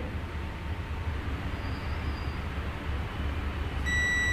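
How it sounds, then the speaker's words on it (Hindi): Continuity beep from a multimeter tested across a capacitor on a dead Realme C11 phone's circuit board: a steady electronic tone starts near the end over a constant low hum and background noise. "ये कैप के दोनों साइड आपको क्या आ रहा है, बीप आ रहा है।"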